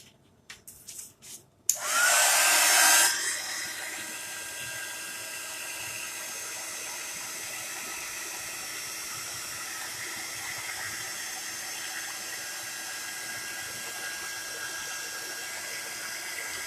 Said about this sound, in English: I'm going to go ahead and grab my heat tool and dry this before I do anything else.